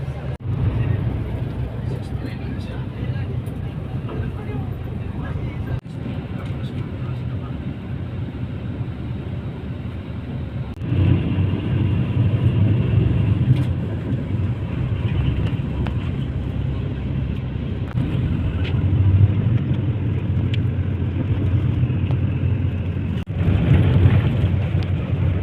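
Bus engine and road rumble heard from inside the cabin on a long trip, a steady low drone that swells louder partway through, with occasional bumps and clunks.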